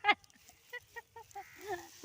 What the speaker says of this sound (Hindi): यहाँ बांस का पेड़ है, देखिए कितना कौवे सब काई काई बोल रही है